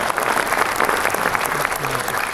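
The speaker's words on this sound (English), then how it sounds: "I think we need to give a big applause to the government of Malaysia and all the Malaysian people." Applause from a large audience at an opening ceremony in Malaysia, dense continuous clapping filling the hall, loud and steady throughout.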